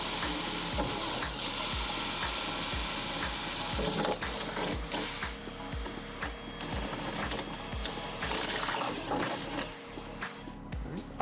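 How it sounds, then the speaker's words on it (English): An electric drill with a 1/8 inch bit boring holes into a BMW G8X M3/M4 trunk lid for a carbon fiber wing, a busy mechanical whir with a steady rapid ticking pulse, louder at first, then rougher and scattered. "Time to hit it with the drill. I'm using an 1/8 inch bit."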